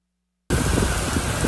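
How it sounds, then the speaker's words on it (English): Heavy rain pours in sheets during a storm across the southern United States, a loud, dense broadband roar that starts abruptly after a moment of silence and holds steady, close and unbroken with no voices. "Sheets of rain continuing to drench parts of the South tonight."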